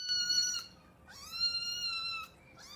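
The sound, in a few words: cat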